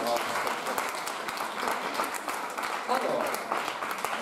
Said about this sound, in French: Candidate numéro 4, on l'applaudit très très fort.